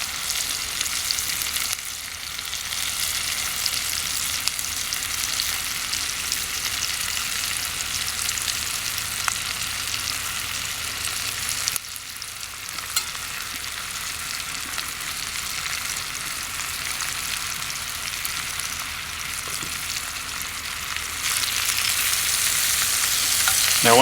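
Onions fry in a 10-inch skillet over a wood gas stove, giving a steady, close sizzling hiss throughout with occasional faint stirring scrapes and no voices.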